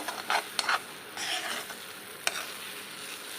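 Ridge gourd peel, ginger and garlic fry in oil while a spatula stirs, producing soft sizzling under several sharp scraping strokes and clinks against the pan, close and without speech.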